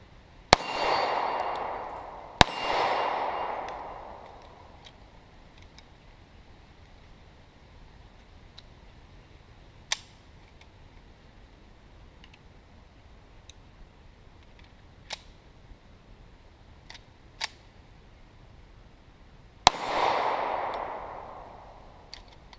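Kimber Eclipse 10mm pistol firing with the slide failing to lock back: a few sharp loud reports spaced far apart, each with a short ringing tail, plus faint metallic clicks in between.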